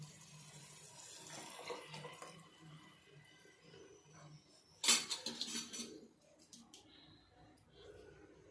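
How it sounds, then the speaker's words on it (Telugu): Pulusu broth poured into a cooking pot for bajji pulusu, a splashy liquid pour that peaks sharply midway amid faint kitchen clatter. "ఇప్పుడు ఈ పులుసు కూడా పోసేస్తున్నానండి."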